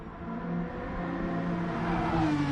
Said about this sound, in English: That Porsche sounds pretty good.